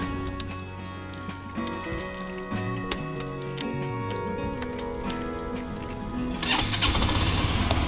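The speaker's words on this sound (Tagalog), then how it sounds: "So ito yung ating motor." A motorcycle engine cranks and sputters, then catches and revs up into a loud, rough roar near the end.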